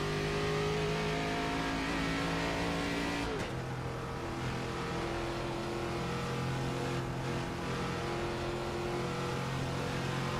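NASCAR stock car at North Wilkesboro in a racing video game, engine roaring loud and close at full throttle with a steady high drone, a quick dip and shift, then continued heavy running.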